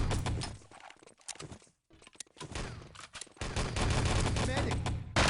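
A grenade explosion and dense gunfire in the Enemy Territory shooter during a 3-on-3 LAN tournament, rapid bursts of shots crackling almost continuously with brief gaps, under faint commentary voices.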